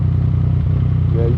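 A Yamaha MT-09 motorcycle engine idles with a deep, throbbing, steady rumble up close, loud and continuous, with a slight rev toward the end.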